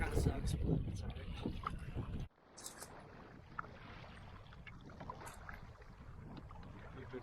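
Canoe paddling down a lake into a headwind, with steady wind and water noise; louder gusty buffeting at first, then a quieter, continuous wash of water and wind.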